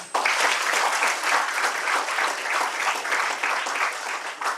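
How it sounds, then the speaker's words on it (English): Applause from an audience at a student induction program, dense clapping that starts abruptly and holds steady and loud for several seconds, with faint voices mixed in. "Please clap, please."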